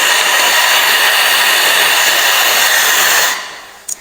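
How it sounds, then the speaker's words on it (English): An AX1015 pneumatic industrial vacuum cleaner fitted with a small nozzle runs with a loud, steady, airy roar, then cuts off abruptly near the end, followed by a brief click. "Now, I connect with the nozzle. This is the small nozzle. Now, work like this."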